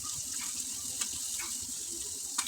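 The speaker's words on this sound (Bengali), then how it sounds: "এই যে বলক চলে আসছে, আমি চুলার আঁচ এই মুহূর্তে বাড়িয়ে রেখেছি" Small fish curry with potato and eggplant coming to a rolling boil in an uncovered pot on a high flame, giving a steady bubbling, watery hiss with a few brief sharper pops, close by and fairly quiet.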